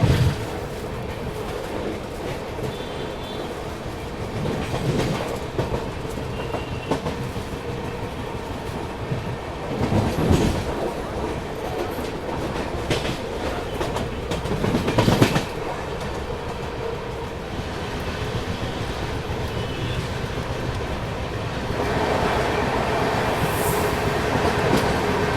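Train interior noise on a Bangalore to Kolkata Duronto run, a steady rumbling roll with occasional louder rattles and wheel clatter, rising toward the end as the carriage moves at speed; no talking.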